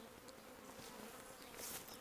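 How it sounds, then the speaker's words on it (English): A small cast, or secondary, swarm of honey bees clustered on an azalea bush gives a steady, close buzzing hum that runs without a break, with a few louder bees passing near. "today's swarm is a little cast or secondary swarm, and they've landed on an azalea bush here"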